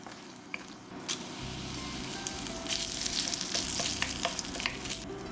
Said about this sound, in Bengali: কড়াই গরম করে সর্ষের তেল দিচ্ছি